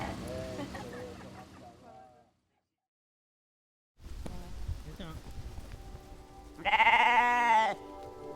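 Sheep bleat on a cooperative farm flock of about thirty sheep and a ram, a loud nasal bleat near the end after speech, a pause of silence and rain-like patter.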